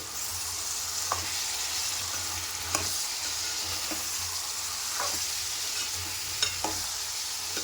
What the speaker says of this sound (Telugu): టమాటా ముక్కలన్నీ దీంట్లో వేసేసుకోవాలి. దీంట్లో వేసేసుకొని ఒకసారి మొత్తం కలిపేసి